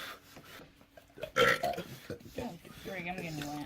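A man's sharp, loud burp bursts out amid a short stretch of background talk and movement, followed by voices continuing nearby.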